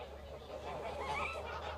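Geese honking on a Gascony foie gras farm, a short run of nasal honks from a flock close by over a steady low hum, with no voices.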